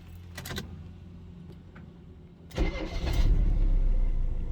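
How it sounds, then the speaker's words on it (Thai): A car that has just had a new air-conditioning unit and condenser fitted is started again: faint key jingles and a brief crank, then the engine catches and settles into a loud, steady idle close by. "เดี๋ยวเราลองสตาร์ทอีกรอบหนึ่ง"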